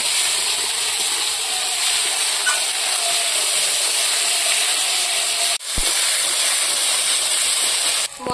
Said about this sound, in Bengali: আলুর সঙ্গে মশলাটা ভেজে নেব।